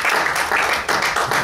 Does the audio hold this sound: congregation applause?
yes